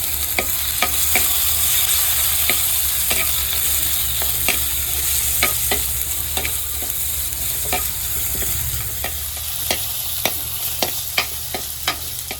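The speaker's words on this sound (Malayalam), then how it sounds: "നമ്മൾ തക്കാളി ഇട്ട് കൊടുക്കാം." Tomato fries with garlic, ginger, green chili and shallots in a hot pan, a steady close sizzle broken by regular sharp scrapes and taps of a stirring spoon.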